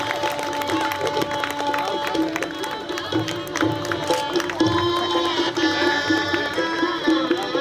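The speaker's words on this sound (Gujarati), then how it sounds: "જોરદાર તાળીઓથી આ સન્માનને આપણે વધાવી લઈશું" Loud applause and crowd noise fill a society function in Gautameshwarnagar, Bhavnagar, as guests are honoured, a dense steady clapping wash with murmuring voices mixed in throughout.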